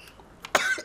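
A person gives a single harsh, abrupt cough, close and loud, preceded by a small throaty catch.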